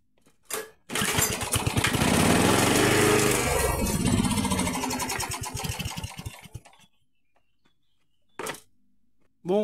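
A Kubota lawn mower engine cranks and catches after a restart, then runs loud and rough for several seconds close by before cutting out, with a brief burst of engine noise again near the end.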